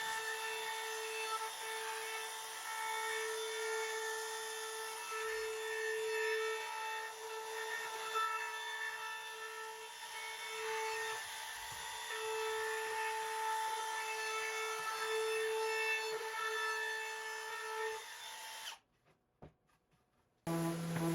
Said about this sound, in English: I went through the rest of the sharp edges here with the 1/8 inch roundover bit just to soften them a bit.